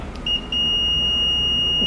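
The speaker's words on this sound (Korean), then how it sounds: "멀티미터 플러스 마이너스 선을 합선을 시키면" A multimeter gives a sustained high-pitched continuity beep when its probe leads are shorted across a float-type water level sensor, starting after a brief blip and holding steady over a low background rumble.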